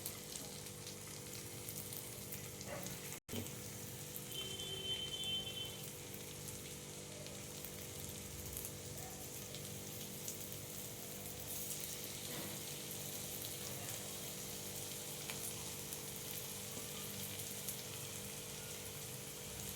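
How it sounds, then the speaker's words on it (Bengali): Chicken pieces for chicken tikka masala fry in a pan over medium heat, a soft, steady sizzling hiss that carries on evenly with one brief click early on. "বাকি চিকেনগুলো আমি ঠিক একইভাবে ভেজে নেব"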